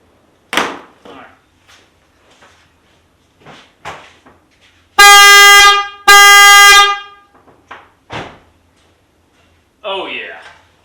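An upgraded Hella horn on a fifth-generation Toyota 4Runner gives two loud, sustained blasts of about a second each, separated by a short gap, with brief bits of speech and a few handling knocks before and after.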